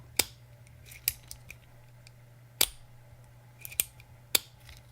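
Sharp metallic clicks from titanium bolt-action EDC pens being worked, five or six crisp snaps spaced irregularly with faint small rattles between them, close and quiet over a low hum.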